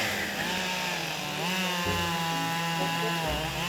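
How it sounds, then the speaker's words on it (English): A chainsaw cross-cuts willow logs into 28-inch pieces for cricket bat clefts, its loud, close, continuous engine whine shifting in pitch as the chain bites through the wood. "This starts with cross-cutting the logs into 28-inch pieces with a chainsaw."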